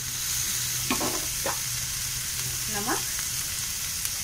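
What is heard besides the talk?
paneer bhurji mixture with spices sizzling in a pan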